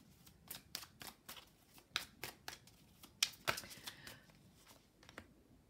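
Tarot cards handled and laid out during a reading, crisp close slaps and flicks of card stock, spaced unevenly with a small cluster of sharper snaps partway through, quiet.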